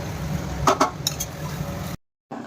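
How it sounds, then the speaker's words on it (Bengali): Chicken being stir-fried in spiced masala in a pan for butter chicken, with steady low sizzling frying noise, a few clinks of a utensil against the pan, and a short silent gap near the end. "দেখো এখন আমি চিকেনটা দিয়ে ভালো করে একটু কষিয়ে নেব।"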